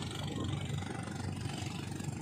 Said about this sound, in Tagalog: Sunod-sunod na mga bangka na naghihila na mga kati.